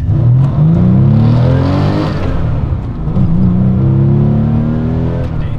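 A Porsche 993 Carrera 4S on two-way motorsport suspension accelerates hard from standstill toward 80, its engine roaring loud and close inside the cabin, pitch climbing steadily, dipping briefly at a gear change, then rising again.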